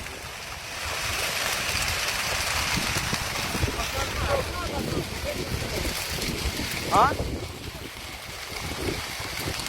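Strong wind blows steadily outdoors, a continuous rushing roar buffeting the microphone throughout, with a voice speaking briefly over it.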